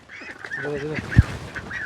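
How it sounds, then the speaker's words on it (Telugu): Large ducks, of a swan-like breed, calling on a farm: several nasal, honking calls in quick succession, fairly close, with a brief low thump in the middle. "ఆ బాతులు వచ్చింది"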